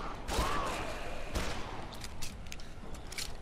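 Gunfire in Dead Island, a few sharp shots cracking out amid ambient game noise and clatter, moderately close but fairly quiet overall.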